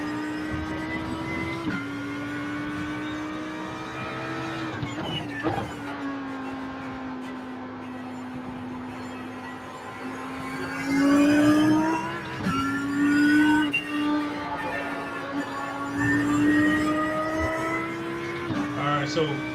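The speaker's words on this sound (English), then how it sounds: "So I'm hearing the car and hear you at the same" A race car engine drones loud and steady through Eau Rouge in a racing video game, its pitch dipping and climbing with revs and gear shifts, while people talk over it.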